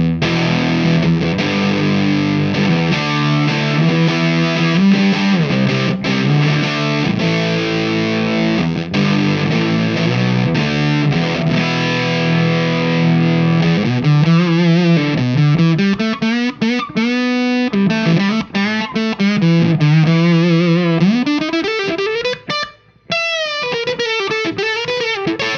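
Electric guitar on the bridge pickup with the tone all the way up, driven through a fuzz pedal built on a new circuit type, playing loud, continuous distorted chords that give way to sliding single-note riffs, with no talking.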